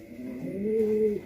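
A short-distance racing pigeon of the 003 line gives a single soft, close coo, a brief rising and falling call that carries alone.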